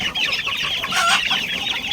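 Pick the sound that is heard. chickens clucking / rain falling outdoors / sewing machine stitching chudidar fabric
chickens clucking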